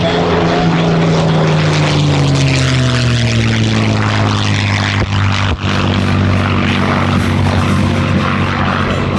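Loud, continuous roar of a P-51H Mustang's Packard Merlin piston engine and propeller at an airshow, its pitch sliding lower as the plane passes close by.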